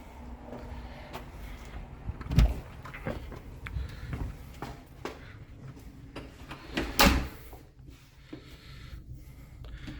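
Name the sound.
front door of a new house being opened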